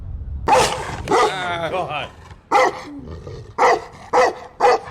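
A big dog gives several loud, deep barks in separate bursts, close by, with people talking and reacting over and between them.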